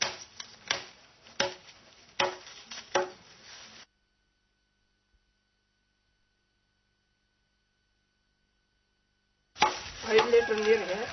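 Jowar stalks are chopped into half-foot pieces for silage in a quick run of sharp, close, evenly spaced chops. A long silence follows, then noisier cutting resumes.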